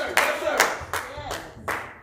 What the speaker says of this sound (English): Somebody clap your hands for the word.